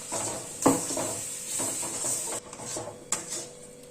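Thick paste of grapes, almonds, cashews and milk poured into semolina frying in ghee in a pan, giving a soft sizzle with stirring scrapes and a couple of sharp utensil knocks, close and steady, no talking.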